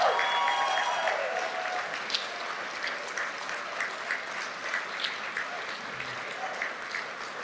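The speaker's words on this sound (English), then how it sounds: "give them a great round of applause" A gathered audience at a university athletic Hall of Fame ceremony applauds the inductees, sustained clapping from a large crowd that starts loud and eases slightly while continuing steadily to the end.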